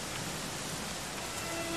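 Rain pours in the video game Dragon Quest XI, a soft, steady hiss of falling water that holds constant throughout with no speech.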